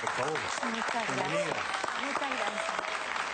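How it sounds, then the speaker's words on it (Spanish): Studio audience applause greeting a guest on a television talk show, steady clapping running throughout beneath someone speaking clearly in Spanish in the foreground. "Un aplauso para ella,"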